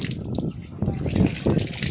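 Tap water runs steadily while someone washes soil off their hands after planting, with a close, continuous splashing trickle and a few brief louder gushes.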